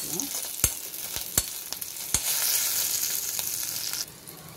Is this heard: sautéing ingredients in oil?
yes